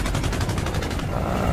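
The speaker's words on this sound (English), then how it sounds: "I keep shooting at a VATS that isn't there anymore, because Giuseppe got rid of him" Rapid automatic gunfire in the video game Battlefield Bad Company 2, a dense burst of repeated shots running continuously at moderate level with battle noise beneath.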